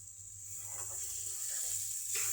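Chicken curry masala frying in oil in a pan, a faint steady sizzle and hiss that grows slightly louder toward the end, heard with no one talking.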